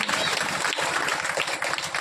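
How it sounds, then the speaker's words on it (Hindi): Applause from an audience gathered at a memorial tribute ceremony, a dense, steady wash of clapping that holds at an even level throughout, close and fairly loud. "आप सभी वहाँ ताली से बजाएंगे।"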